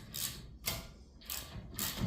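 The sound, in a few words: garage door spring being tightened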